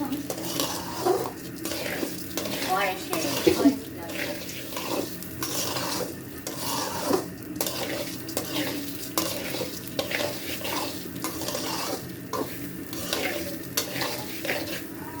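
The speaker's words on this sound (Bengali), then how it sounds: "এই যে ভিওর্স চালটা এখানে ভাজা হচ্ছে" Rice for pulao fries in a pan with mace, stirred constantly so a spoon scrapes and taps rhythmically over a soft, continuous sizzle, close and moderately quiet.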